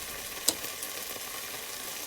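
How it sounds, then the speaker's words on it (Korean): Fried rice with leftover pork trotters stir-fries in a hot pan, a steady close sizzle with one brief sharp scrape of a utensil early on and no voices. "익을 때까지 볶아야지"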